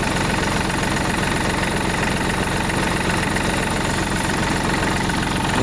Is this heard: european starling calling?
no